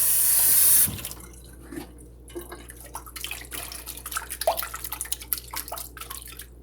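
Cold water runs from a tap into a sink, splashing and trickling unevenly after a brief louder burst at the start.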